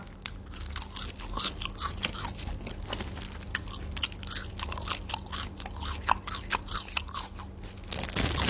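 Loud, close chewing and biting of Thai soi ju, raw beef with a sour dipping sauce, with a continuous run of wet crunches and smacks and no talking.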